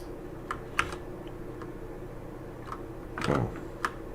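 A computer keyboard clicks faintly and sparsely in a quiet room. Scattered single keystrokes are followed by a short burst of quicker tapping, with no talking.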